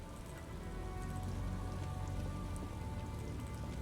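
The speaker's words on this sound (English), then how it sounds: "It's a rainy day." Steady rain falls across the scene in the video game Disco Elysium, a dense, even hiss of drops pattering on surfaces that holds constant throughout with no talking.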